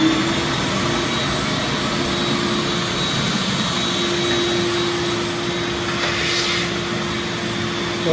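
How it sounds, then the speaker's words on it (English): A vacuum cleaner drawing ash out of a pellet stove gives a steady, loud, close roar with a constant high whine and does not let up. The pitch shifts briefly as the nozzle moves inside the stove cavity. "brush the inside of the cavity out and get all the ash out"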